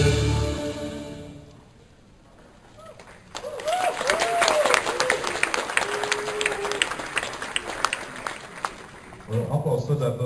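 Graduation ceremony audience breaks into dense applause after a brief lull, many hands clapping steadily for several seconds, with voices speaking before and after.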